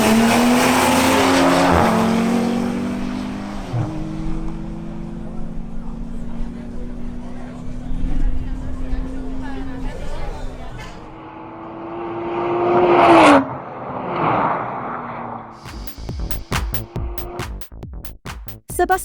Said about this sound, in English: Sebastian Sepulveda in his BMW M240i xDrive improves his previous record by 51 milliseconds